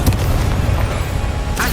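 A Confringo blasting spell going off in Hogwarts Legacy: a short, loud, close boom with a rumbling low burst and a brief crackle at the end.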